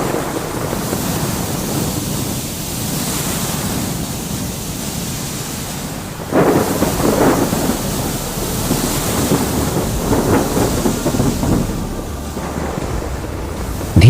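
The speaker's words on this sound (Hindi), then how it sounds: "धीरे धीरे तूफान और तेज होता जाता है और जहाज डूबने लगता है।" Violent thunderstorm at sea in a 2D animation, with a ship beginning to sink. A steady roar of wind and crashing waves fills the whole stretch, and a louder surge hits about midway.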